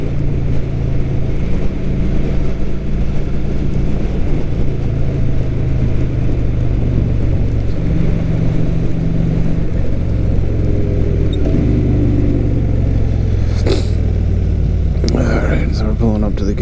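Motorcycle engine running steadily while riding, a loud continuous low rumble with wind noise throughout, and a couple of brief higher bursts near the end.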